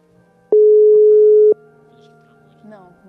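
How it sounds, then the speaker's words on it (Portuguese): Placing a telephone call produces a single loud, steady busy-signal tone lasting about a second, followed by faint background sound. "Estamos ligando para o Felipe."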